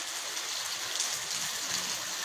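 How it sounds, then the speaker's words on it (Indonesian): Rain falls lightly but steadily on an afternoon, a soft, even hiss with scattered drops close by and no voices. "mulai diguyur hujan. Namun belum demikian deras."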